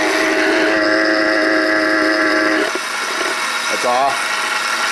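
A running car engine drones steadily near a belt tensioner, loud and constant with a faint tonal whine, then shifts slightly quieter partway through; a person speaks briefly over it.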